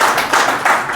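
Audience at a grand mushaira poetry gathering breaks into loud, dense clapping that sustains steadily through the moment, a close, enthusiastic burst of applause with no speech over it.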